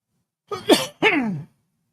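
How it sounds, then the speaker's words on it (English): Two quick, close coughs back to back, harsh and throaty, then silence. "Sorry for the cough."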